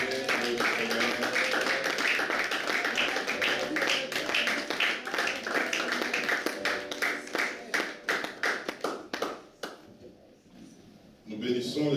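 A church congregation applauding and cheering the Lord during a service, dense sustained clapping that fades out after about ten seconds, with voices mixed in.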